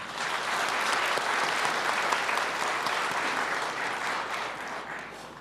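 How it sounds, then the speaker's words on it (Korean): A large audience at an indoor Labour Day ceremony gives steady, dense applause for veteran labour movement elders, sustained and even for several seconds before easing slightly at the end. "감사의 마음을 담아 박수 한번 보내주셨으면 좋겠습니다"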